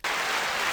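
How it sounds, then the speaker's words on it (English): A short burst of crowd applause rings out from a soundboard button, a loud, dense clapping and cheering effect cut off abruptly after under a second. "Round of applause for Eli Tomac."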